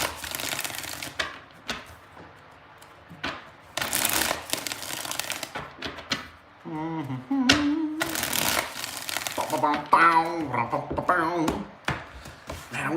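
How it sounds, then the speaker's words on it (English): Tarot cards being shuffled by hand at a reading, with bursts of crisp riffling and slapping at intervals, and a voice talking briefly in the middle. "Three more shuffles."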